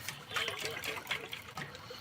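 Water sloshing inside a water udu, a clay drum with water sealed in by a soldered metal layer, gives a faint, continuous liquid trickle and slosh with small swells, heard alone and fairly quiet.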